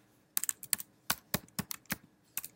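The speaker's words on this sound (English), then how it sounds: "I'm going to type in a unique name" Keys clatter on a computer keyboard as a name is typed: short bursts of crisp, close clicks in an uneven rhythm, with brief pauses between groups of strokes.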